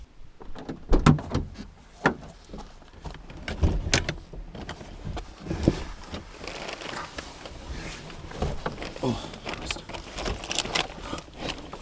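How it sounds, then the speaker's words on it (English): Squeaky mechanical cranking in uneven strokes, a Citroën Saxo 1.1 window being wound by hand, with knocks and rustles inside the car nearby. "can you wind my window up?"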